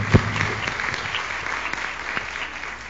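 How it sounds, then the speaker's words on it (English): Applause for student helpers at a dental conference in Riyadh, a steady, moderately distant clatter of many hands clapping, with one louder thump near the start. "give a warm applause to these students who helped in successfully helping this kind of"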